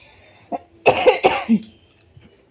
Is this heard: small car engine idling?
no